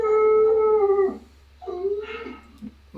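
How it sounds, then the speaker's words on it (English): A dog gives a long, loud, close howl that falls away, then follows with two shorter, wavering howls after a brief pause. "What's the fucking dog doing?"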